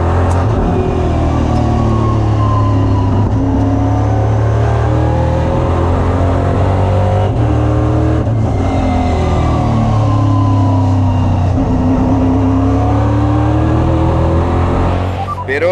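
EuroNASCAR stock car lapping fast at the Valencia circuit: a loud onboard engine roars continuously, its pitch sweeping up and down through gear changes and corners, with brief dips at shifts and no talk.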